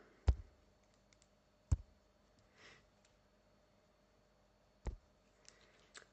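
Calculator keypad buttons pressed to enter numbers, three or four faint, crisp clicks spaced a second or more apart in a quiet room.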